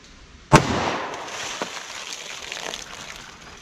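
A 10mm hunting pistol loaded with Hornady Custom XTP ammunition fires a single sharp, loud shot into a ballistic gel pack, followed by a brief crackle and a fading reverberant tail with a faint secondary pop.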